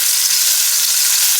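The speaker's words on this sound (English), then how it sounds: "let that brown for just a minute, and then we'll flip it over" Pork loin seasoned with garlic and thyme browning in a hot pan, a loud, close, continuous sizzle with a bright hissing texture and no pause or talk.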